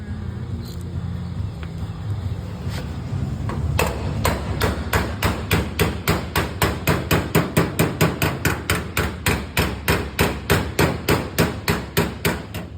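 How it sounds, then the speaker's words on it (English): A body hammer strikes a car body panel in a long, steady run of sharp metallic taps. After a few scattered hits, the close, loud blows settle into a quick, even rhythm, with no talk. "Put the body hammer here, tap this up here."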